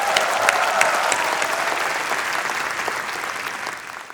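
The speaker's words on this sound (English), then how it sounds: "Give yourselves a round of applause" A graduation audience at a commencement ceremony in Tashkent claps in sustained, dense applause that fills the room and slowly tapers off.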